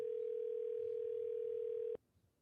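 A steady single telephone tone holds for about two seconds and then cuts off abruptly, with faint low background noise trailing after it.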